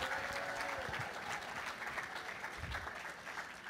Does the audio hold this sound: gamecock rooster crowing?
no